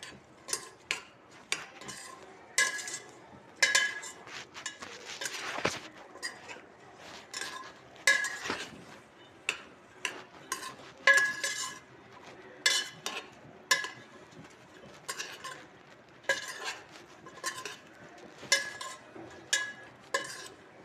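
Sambar being stirred in a pot after chili and turmeric powders go in, a steady run of quick scraping and tapping spoon strokes against the metal, close and fairly quiet with no voices.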